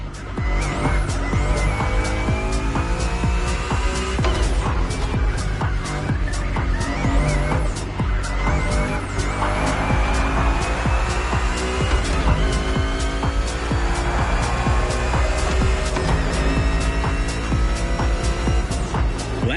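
Race cars in The Crew Motorfest roar continuously through a five-lap race in uncertain weather, engines droning loud and steady with tires squealing and skidding throughout, no talking.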